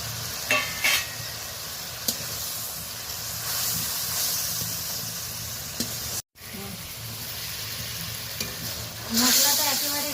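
Spiced masala paste of turmeric, chili, cumin and coriander powders with a little hot water sizzles in oil in a pan while being stirred, with steady frying hiss, scraping strokes and a short louder burst near the end.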